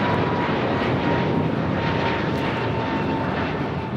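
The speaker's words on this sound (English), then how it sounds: "That was American Airlines Flight 2543 heading to Dallas, Fort Worth, Texas, an A321neo" An American Airlines A321neo jet passes close and loud near Los Angeles LAX. A broad, steady engine roar fills the whole moment and fades only slightly at the end, with no talking.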